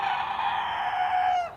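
A garden rooster crows in one long, loud, drawn-out call close by that holds steady and then tails off at the end, with no other sounds around it.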